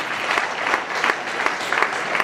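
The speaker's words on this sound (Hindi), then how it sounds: "एक बार जोरदार तालियां सभी बच्चों के लिए।" Hearty applause for schoolchildren after their performance at a seminar, steady dense clapping from a large audience with a few louder bursts, continuing throughout.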